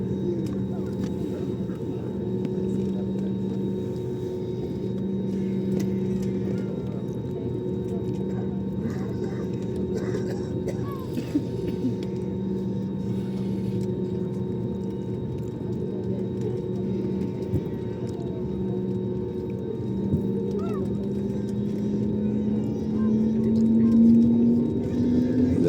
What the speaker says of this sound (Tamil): இப்போ மூவ் ஆகுது, ஓடிக்கிட்டு இருக்குது ரன்வேல.